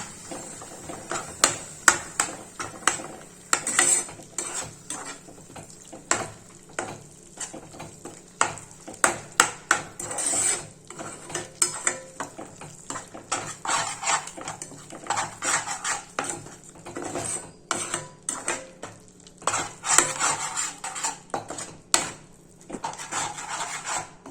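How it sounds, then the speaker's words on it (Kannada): Curd being stirred into a soya dish in a metal pan, with repeated sharp clinks and scrapes of a spoon against the pan in an irregular rhythm, close and alone without talk. "ಈಗ ಇದಕ್ಕೆ ಮೊಸರು ಹಾಕೊಳತ್ತೀನಿ"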